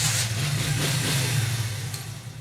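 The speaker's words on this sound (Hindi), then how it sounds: "अब मोटरसाइकिल इंशाल्लाह पहली किक के ऊपर स्टार्ट होगा" A motorcycle's engine catching on the first kick-start and then running steadily near the microphone. The bike has just had a touch-activated anti-theft switch fitted, and it keeps up a low, even idle throughout.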